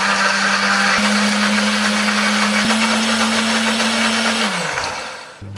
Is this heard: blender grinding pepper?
yes